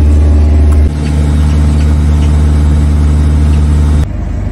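A Citroën C4 Picasso engine idles during diesel particulate filter regeneration, a loud steady low drone that shifts to a slightly lower, smoother hum partway through, then drops in level near the end, with no talking.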